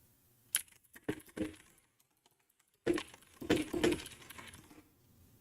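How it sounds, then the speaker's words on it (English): Quiet bursts of clicky mechanical keyboard typing, short clusters of keystrokes separated by a pause, close and crisp. "I have a mechanical keyboard. It's loud. I like the clicking."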